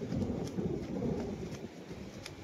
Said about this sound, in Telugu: వినస్తున్నాయి ఆ ఉరువులు.